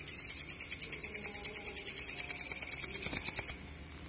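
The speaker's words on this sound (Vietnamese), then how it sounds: "mọi người có thể nghe thấy tiếng châu chấu kêu vào buổi tối, chính là con này" An evening grasshopper chirps close by in rapid, evenly spaced high-pitched pulses, about eight per second, for several seconds before stopping abruptly.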